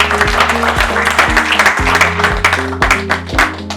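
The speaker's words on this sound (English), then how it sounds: "Give him another hand clap" Hand clapping from an audience at a motivational talk about money, loud and continuous over sustained musical tones, a dense patter of claps throughout.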